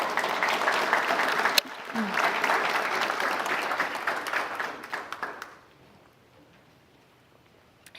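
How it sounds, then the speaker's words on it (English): An audience at a Hawaii Island State Senate District 3 candidates forum applauds the candidates. The warm, steady clapping goes on for about five seconds, then drops to quiet room tone. "Let's give them a warm round of applause."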